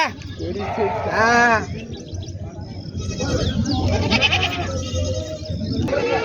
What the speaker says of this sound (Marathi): पाहू शकता या संपूर्ण या ठिकाणी बकरी असतात